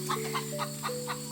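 Chickens and a rooster with a bad leg cluck in a shaded, tarp-covered pen, a close, rhythmic series of short clucks over a steady background hum.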